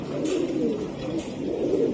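Racing pigeons coo softly and close by, making a low rolling murmur with a couple of repeated coo phrases.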